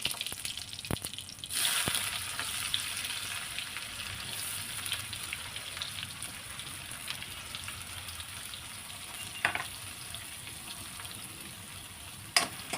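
Sliced onion frying in hot oil in a pan, a continuous faint sizzle and crackle with a few sharper stirring clicks, close-up and alone without talk.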